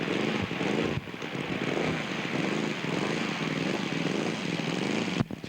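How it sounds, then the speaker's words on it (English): A scale model Newport 28 aircraft's engine drones loudly and steadily at an air park during a test flight, a buzzing propeller tone with slight pitch wavering, briefly dipping near the start and end. "This is Gary Parker from California with his Newport 28 for a test flight."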